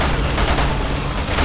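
Dense, loud machine gun fire from the Resident Evil 6 video game, a continuous burst of rapid shots filling the short moment with no voices.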